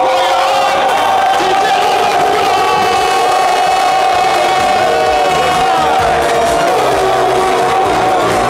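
A television studio audience cheers and whoops in a loud, sustained crowd roar over music, continuing at a steady level throughout.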